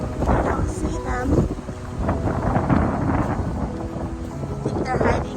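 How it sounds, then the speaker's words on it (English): Heavy wind on a rainy California day buffets the microphone in a constant loud rumble, rising and falling in gusts while voices talk intermittently through it. "It's a very windy day."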